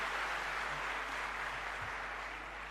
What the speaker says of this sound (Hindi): आप सब एक बार जोरदार तालियों से अपने प्रणाम माननीय मुख्यमंत्री तक